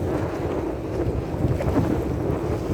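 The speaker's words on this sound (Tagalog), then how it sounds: "Nakakabingi yung hangin" Strong wind buffets the microphone in a loud, continuous roar with rumbling gusts, like standing exposed by the sea; no voices.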